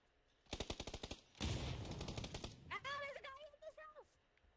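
Rapid gunfire from a multiplayer shooter video game: a quick burst of about a dozen sharp shots, then a dense blast of fire, followed by whistling, warbling tones as play continues.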